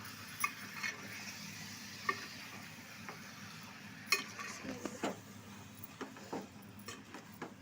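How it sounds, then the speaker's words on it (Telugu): A spoon scrapes and turns chicken pieces through curry masala in a pan, gentle intermittent stirring clinks and light sizzling at close range, no talking. "ఇప్పుడు మనం పైనుంచి కిందకి ఒకసారి కలుపుకుంటే మసాలా అంతా ముక్కలకు పడుతుంది అన్నమాట"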